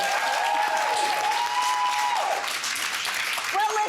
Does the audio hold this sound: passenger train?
no